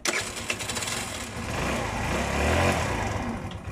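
An engine on a Rossi RS 2020 motorcycle being started, a cranking whir that builds into a rough, rising engine rumble over a few seconds, close and fairly loud, with no clear talking.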